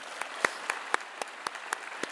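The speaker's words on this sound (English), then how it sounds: "Graduates, please give our parents a round of applause." Scattered, sparse clapping from graduates at a commencement ceremony, a handful of separate claps spaced across the moment rather than a full ovation, fairly quiet and alone without talk.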